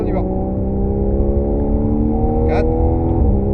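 A Porsche Carrera 4S engine pulls through a corner on a race circuit, a loud close steady drone with rising harmonics, while an instructor speaks briefly in short bursts over it.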